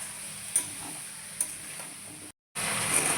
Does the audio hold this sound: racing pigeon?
no